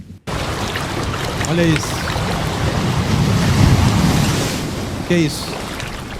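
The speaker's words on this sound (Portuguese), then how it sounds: "As ondas do mar." Sea waves wash and surge in a continuous broad rush of surf that swells louder midway, with wind noise on the microphone. A voice briefly speaks over the water twice.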